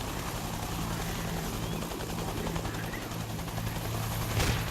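A military simulation game helicopter makes a steady, loud rotor drone that fills the scene, with faint distant gunfire crackling beneath it.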